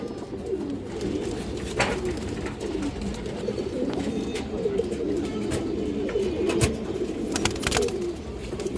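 Bagha pigeons cooing in a steady, low, rolling chorus close by, with scattered sharp clicks and rustles over the continuous murmur.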